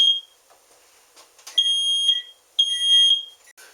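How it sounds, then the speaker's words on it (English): A smoke alarm set off by cooking sausage and cheddar cheese balls sounds in loud, piercing high-pitched beeps, with long electronic tones repeating with short gaps, close by. "as my smoke alarm goes off yet again"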